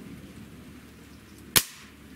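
A single sharp crack from a Hatsan 125 Sniper Vortex air rifle, close and loud, rising out of quiet room tone and decaying quickly.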